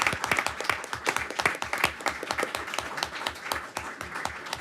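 People at a public board meeting give a round of applause, a modest group clapping with distinct individual hand claps audible in a lively, uneven rhythm, close and fairly clear.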